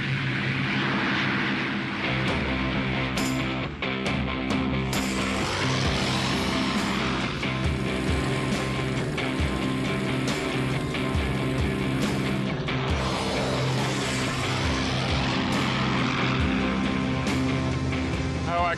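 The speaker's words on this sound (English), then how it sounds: "Now the take-off. Throttle right forward. Stick central. Ease her off the ground." Spitfire fighter plane taking off at full throttle, a loud continuous engine roar with a steady propeller drone that stays strong and close throughout.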